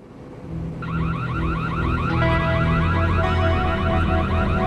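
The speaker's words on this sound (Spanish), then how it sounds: "oyen una alarma de robo y llaman a la policía" A burglar alarm at a residential estate in Paradise Valley sounds a loud, continuous warbling electronic wail that swells in over a low steady hum and keeps cycling without pause.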